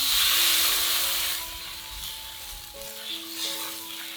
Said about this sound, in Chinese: 放蒜末、酸菜，炒香后加入清水